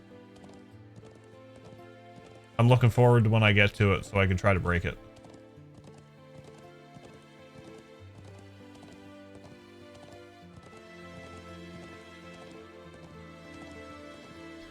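Horse hooves clop along in the video game Trails into Reverie, soft and steady beneath looping game music, with someone talking briefly over it.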